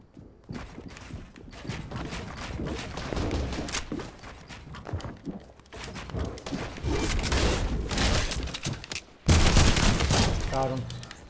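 Dense rapid gunfire in a Fortnite match on Xbox One, with bursts of shots and clattering impacts running almost continuously, loud and close, then a sharper louder burst near the end.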